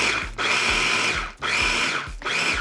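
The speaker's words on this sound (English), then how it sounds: "So you pulse it till it's fine." A food processor pulsing walnuts: three bursts of whirring motor, each a second or so long, separated by short pauses, loud and close with no talk.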